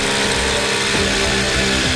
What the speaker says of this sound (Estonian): Kõigepealt tuleb puurida auk